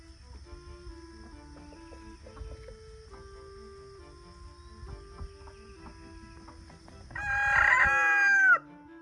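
A rooster in a garden with chickens lets out one loud, clear crow near the end, after a quieter stretch of soft clucking and background insect chirps.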